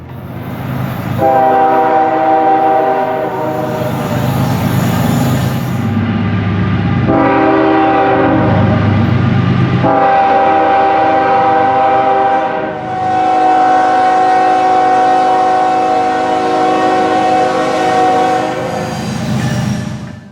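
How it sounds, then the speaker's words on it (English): A GE locomotive sounds its Nathan K5HL air horn in several loud, sustained chords with brief gaps, over the rumble and rolling clatter of a passing train, with no talk. "Additionally, the horn is usually a Nathan K5HL."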